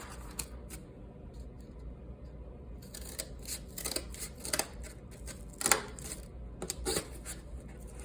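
Close-up scissors chew through cardboard to cut out a second plane wing. Scattered snips start slowly, then come as a busier cluster of sharp, crunchy cuts toward the end.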